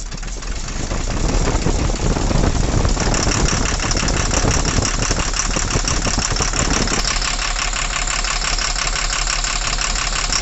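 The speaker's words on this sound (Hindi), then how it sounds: "इंजन हमारा साउंड कर रहा है और धड़ धड़ धड़ धड़ इस तरह से साउंड कर रहा है" A BS4 diesel engine with a knocking fault runs steadily with a loud, continuous rumble and a rapid knocking clatter throughout, close by and with no voices.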